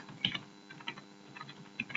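Typing on a computer keyboard in a few soft, scattered bursts of keystrokes, close and fairly quiet, with no talking.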